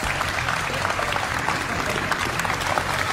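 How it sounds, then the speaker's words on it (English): Audience applause fills a television talent-show studio, a dense, steady wash of clapping heard alone for about three seconds at moderate level. "A round of applause for both these guys"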